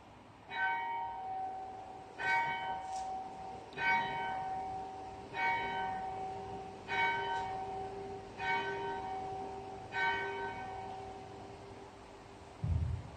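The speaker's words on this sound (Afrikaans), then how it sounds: "sal ek ons die klok lei asseblief?" Church bell of a Dutch Reformed congregation in Escombe, South Africa, rung before the Easter Sunday service: seven evenly spaced, resonant strokes about every one and a half seconds, each with a long ringing decay, heard alone at moderate distance.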